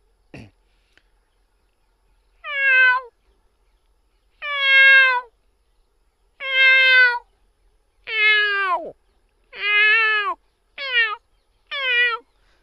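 A human voice imitates a cat, giving about seven drawn-out meows separated by short pauses, clear and fairly loud.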